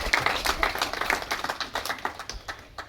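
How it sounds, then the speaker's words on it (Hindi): A conference audience claps for a best paper presentation award, a short burst of scattered, uneven hand claps at moderate distance, fading slightly toward the end. "आपके लिए भी एक जोरदार तालियां हो गए"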